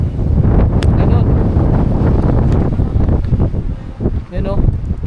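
Strong wind at the Kaho rock-climbing site buffets the microphone in loud, continuous roaring gusts, with people talking beneath it.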